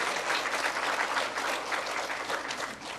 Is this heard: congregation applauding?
yes